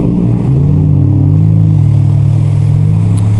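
A Sea-Doo RXP-X jet ski engine with through-hull exhaust drones loud and close, a steady low rumble that rises slightly as it revs, with no talking over it.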